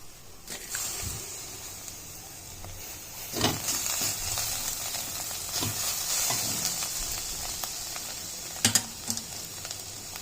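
Browned onions and garlic sizzle in a pan for Indian-style chicken kebabs, a steady close frying hiss broken by a few sharp stirring clatters.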